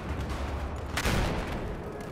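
Mortar and gunfire in the Battlefield 4 video game, a dense continuous barrage of blasts with a heavier burst around the middle, loud and steady throughout.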